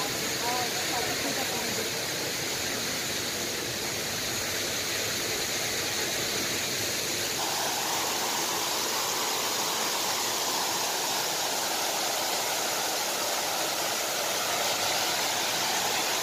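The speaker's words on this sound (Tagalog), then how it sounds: "man-made waterfalls from Singapore." A man-made waterfall at Singapore Botanic Garden pours in a steady, broadband roar of rushing water, continuous and fairly close for the full length with no break.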